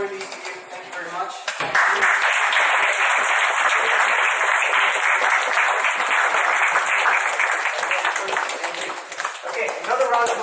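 A room of meetup attendees bursts into sustained clapping after a few seconds of talk, the applause dense and even before easing slightly toward the end.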